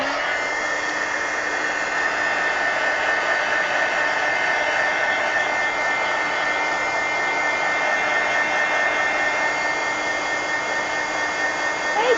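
A hair dryer blows paint dry on an altered book page, a steady, loud whooshing hum that runs unbroken for the whole stretch with no talking.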